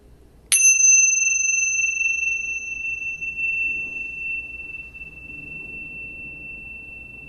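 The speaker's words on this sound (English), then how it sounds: "until we pause again and hear the bell" A single meditation bell struck once, a sharp bright strike followed by a long clear ringing tone that slowly decays over several seconds in a quiet room.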